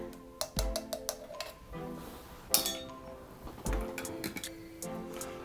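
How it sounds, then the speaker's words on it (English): Stirring water in a glass brewing beaker, light glassy clinks and taps spaced irregularly, close and soft against a quiet background. "Just gonna take this and lightly stir it."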